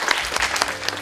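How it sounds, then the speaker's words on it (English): Applause from a youth summit audience, dense overlapping hand claps forming a brief steady burst, fairly loud and filling the room with no voices over it. "Give them both a nice round of applause."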